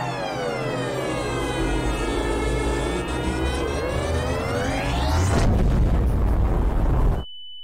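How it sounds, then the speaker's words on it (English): A large explosion destroying an airplane in Garry's Mod, heard as a loud sustained roaring blast with a rising siren-like wail and harmonic whine, growing louder near the end before cutting off abruptly into a lone steady tone. "That explosion literally exploded my airplane."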